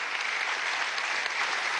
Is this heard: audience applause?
yes